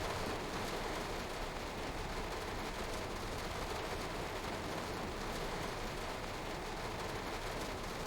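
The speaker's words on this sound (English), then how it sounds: "Yeah, that's definitely quite rainy." Steady heavy rain falls in the Train Sim World 2 video game on the Bakerloo Line with 1938 Heritage Tube Stock, a dense, unbroken hiss that stays loud and even throughout with no pauses.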